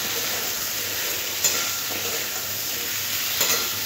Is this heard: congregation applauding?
no